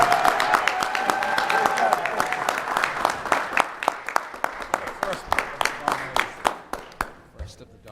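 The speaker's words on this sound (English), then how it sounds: "how about another round of applause for all these talented students?" Applause from the audience at a Lynn city council meeting for talented students, starting dense under a brief voice, then thinning to a slower run of distinct claps that fades out.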